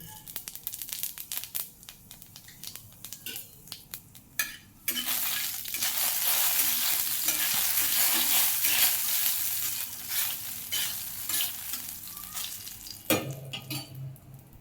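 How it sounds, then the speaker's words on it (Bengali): Panch phoron whole spices hit hot oil in a pan while making a chalta (elephant apple) pickle, bursting into a loud, bright, crackling sizzle after a few seconds of quieter pan clatter and stirring, close up, settling as stirring continues. "এবার দিয়ে দিচ্ছি পাঁচ ফোড়ন"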